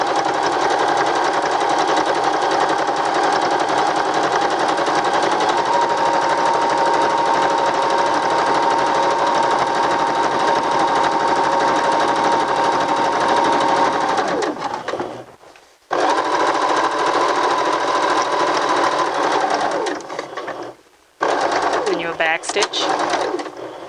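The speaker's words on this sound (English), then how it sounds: "we're going to sew from this point all the way to the edge of the fabric" A sewing machine stitches straight across fabric to the edge in a steady, continuous buzzing run that stops briefly twice near the end.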